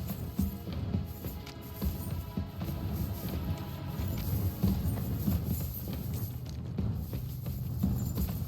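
Soft hoof clops of a passing horse in the medieval game Kingdom Come: Deliverance II, muffled and low against ambient background noise.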